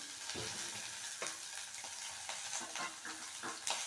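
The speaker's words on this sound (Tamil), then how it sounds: "காஞ்ச உடனேயே இந்த கத்திரிக்காயை அதில் போட்டு" Eggplant pieces sizzle steadily in a hot pan, a continuous close frying hiss with a few light stirring scrapes and no talking.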